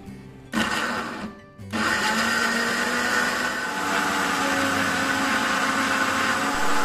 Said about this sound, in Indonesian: kita akan melakukan step selanjutnya, yaitu menghaluskan untuk bumbu-bumbunya